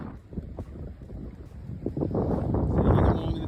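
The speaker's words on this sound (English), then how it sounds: "Sailing along in the Chesapeake, just under 1 sail, jib." Sailboat running under jib alone on the Chesapeake Bay, heard as steady wind rush and water noise against the hull, building louder over a few seconds.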